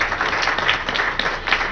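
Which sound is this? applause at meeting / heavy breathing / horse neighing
applause at meeting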